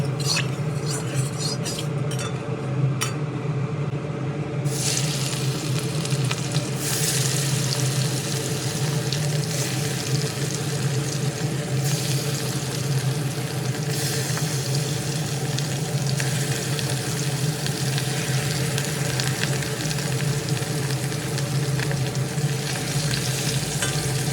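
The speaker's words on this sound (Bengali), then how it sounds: "রুই মাছের টুকরোগুলো একে একে দিয়ে বেশ লাল লাল করে ভেজে তুলে নেব" Rohu fish pieces fry in oil in a kadai with a loud, continuous close sizzle and spitting crackle that holds steady throughout, no speech over it.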